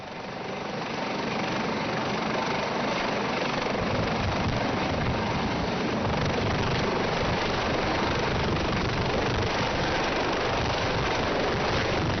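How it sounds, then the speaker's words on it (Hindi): A helicopter arrives at a political campaign stop in Gwalior, Madhya Pradesh: loud, steady rotor and engine roar that swells in over the first second and then holds close and constant without talk. "हेलीकॉप्टर भी आ चुका है"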